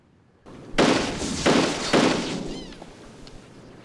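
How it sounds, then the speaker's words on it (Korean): Three loud gunshot cracks a half-second apart, each with a ringing echo tail, followed by fading rumble outdoors. "쓸데없이 작전 지역에서 총소리를 냅니다."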